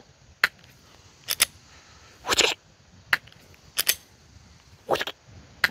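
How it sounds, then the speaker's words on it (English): A SIG P365 pistol dry fired repeatedly gives sharp, close metallic clicks and snaps, about seven in irregular bursts with short quiet gaps between, without talk. "Lots and lots of dry firing."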